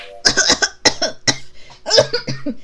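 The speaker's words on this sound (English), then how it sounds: "It started as fake coughing. It turned into real coughing." Several harsh coughs in quick bursts, a few separated by short pauses, close and fairly loud, from a man whose fake coughing has turned into real coughing.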